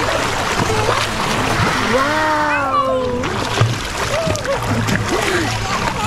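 A child dives into a warm backyard swimming pool, a short splash amid excited children's voices and adult chatter.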